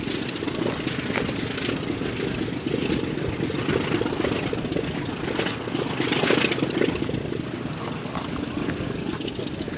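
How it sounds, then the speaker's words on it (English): An A-26 aircraft engine runs during maintenance at an airfield, a steady broad rumbling drone with slight swells, heard from a moderate distance with no talk. "That's an A26 that they're doing some maintenance on."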